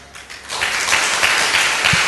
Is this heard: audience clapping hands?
yes